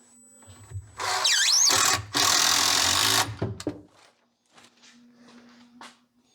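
A power driver sinks a screw into a plywood cabinet inside a boxy enclosure: two loud whirring bursts with a brief stop between them, followed by faint clatter and handling sounds.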